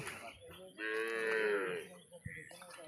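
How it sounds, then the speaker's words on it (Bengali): Cattle at a crowded market on a Padma River sandbank near the India-Bangladesh border give one long, loud moo that rises and falls, with quieter scuffs and murmurs before and after. "এখানে হিউজ পরিমাণ গরুগুলো বিক্রি হচ্ছে"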